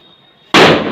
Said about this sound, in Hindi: मेरा भाई पटाखे जला रहा है।